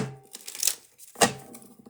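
Riffle shuffles of a small playing-card deck, two quick papery riffling bursts about half a second apart, close and clear with no talking.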